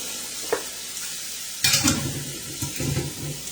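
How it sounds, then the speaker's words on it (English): Canned corn dumped into a hot pan, a broad steady sizzle rising sharply as it lands, with clattering and stirring scrapes over continuous frying hiss. "I'm just gonna take 1 can of corn and I'm gonna dump it in my pan."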